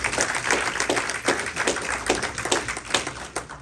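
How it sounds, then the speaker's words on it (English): Mourners at a home-going funeral service clap their hands, a close, uneven patter of individual claps rising and falling in bursts, fairly loud with little talk. "Let's give her another hand clap."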